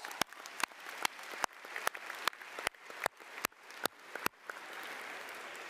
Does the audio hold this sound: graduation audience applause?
yes